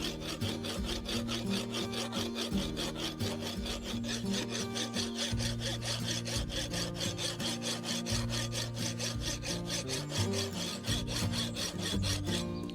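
Steady back-and-forth rasping of a file on a hand-forged steel drawknife blade, dense repeated strokes running continuously and close up without pause or speech.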